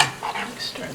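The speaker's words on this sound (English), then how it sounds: "Stir this around." Creamy garlic shrimp stirred in a hot pan, a brief close scraping swirl over a soft steady sizzle.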